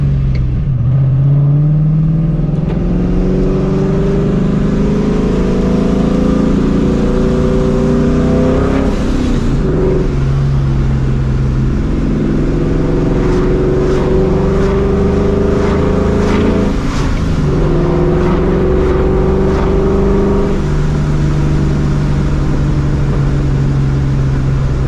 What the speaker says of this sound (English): you're always hearing either the exhaust, the blow up valve, the blower